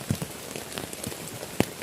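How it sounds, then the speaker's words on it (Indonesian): Drizzling rain patters steadily at night on a solo camping spot by an old hut, with a soft continuous hiss and occasional sharper drops striking close by. "Apalagi dengan hujan gerimis."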